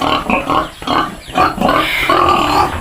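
Sow pigs grunt and snort continuously at close range around feeding, with overlapping low grunts and a few higher squeals, loud and busy throughout.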